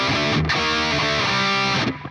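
A simple riff of regular power chords played on a distorted electric guitar, dense and saturated, with a couple of brief choked gaps between chord hits over about two seconds, no voice present.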